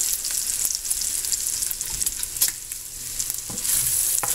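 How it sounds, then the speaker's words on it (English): Bacon and onions sizzle and fry in a pot with potatoes for wild leek soup, a steady close crackle with occasional stirring scrapes and no talk. "bacon and onions are ready to go in there. Putting that in a pot"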